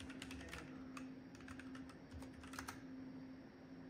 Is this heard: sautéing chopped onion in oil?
no